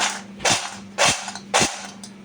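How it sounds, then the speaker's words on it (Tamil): Crispy fried salted cheedai, a South Indian rice-flour snack, crunching in three sharp, evenly spaced bites, close and loud over a faint steady hum. "சத்தம் வந்து பார்த்தீங்களா எப்படி இருக்குன்னு இந்த அளவுக்கு நல்லா கிறிஸ்பியாக வந்துடுது"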